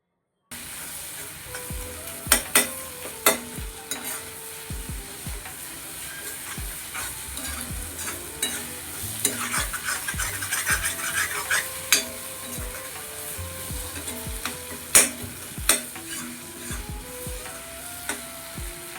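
Prawns sautéing in a pan for a Kerala chemmeen theeyal with onion and tomato, giving a steady close sizzle broken by sharp stirring scrapes and clinks of a spoon against the pan, with no talking.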